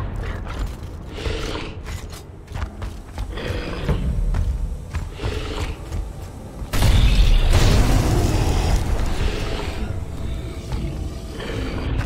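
A frag grenade in the video game Gears of War Ultimate Edition goes off midway as a single heavy blast, leaving a lingering rumble amid clattering combat noise.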